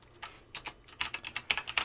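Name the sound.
typing a file name on a computer keyboard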